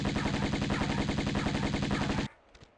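An Uzi fires in Tomb Raider Remastered as one long, loud, rapid burst of evenly spaced shots. The burst stops suddenly, leaving a quiet tail with a faint click or two.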